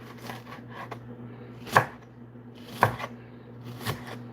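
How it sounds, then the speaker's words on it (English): An onion cut into pieces on a board for pickled peppers, with three distinct knife chops spaced about a second apart over a low steady hum. "Let's cut this onion."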